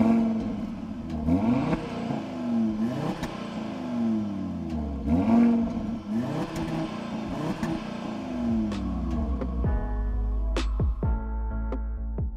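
A 2021 Audi RS Q3 Sportback with a sport exhaust and petrol particulate filter fires up and revs repeatedly, with rising and falling engine sweeps, pops and crackles between blips, and an idle settling at the end.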